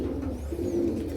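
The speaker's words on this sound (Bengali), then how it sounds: "এই যে আপনাদের জন্য একটা সিলভার বাগা কবুতর নিয়ে আসলাম" A silver baga pigeon at a pigeon market in Narayanganj cooing in a low, soft, continuous warble, close by and moderately loud, with no talking.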